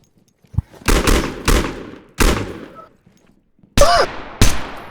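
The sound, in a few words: gunfire in a shooter video game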